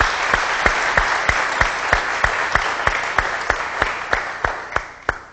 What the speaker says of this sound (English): So I think we need to give Leon a round of applause here.